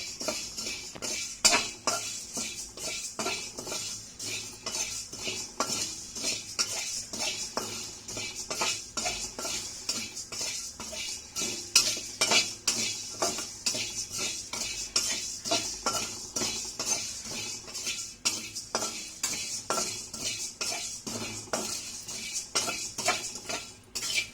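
Rice puffs (vari pelalu) roast in a pan over a high flame with dense, continuous rapid clicking and rattling of grains against metal and the stirring utensil, close and even throughout, with no voices.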